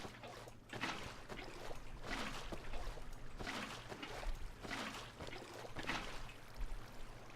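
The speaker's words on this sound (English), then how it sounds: "Just load up this water." Placed water flows in Minecraft 1.12, a quiet continuous trickling and lapping with soft repeated swells over several seconds, no voice.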